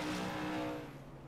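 A damaged, blown engine of an iRacing stock car drones with a rough, uneven tone that holds loud and then fades slightly over about a second, with no voices.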